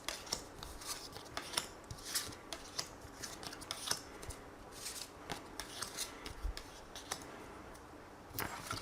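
Tarot cards being shuffled and drawn, with a steady run of soft papery rubs, slides and light snaps close up, fairly quiet and without talk.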